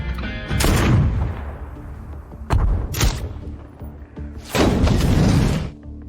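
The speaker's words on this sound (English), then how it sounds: "Accompanied by deafening explosions, all the satellite launchers in the canyon were destroyed." Deafening film explosions destroy a row of satellite launchers in a canyon, set off in a chain reaction: a series of loud, broadband booms with rumbling tails, the biggest blasts landing near the start, middle and end.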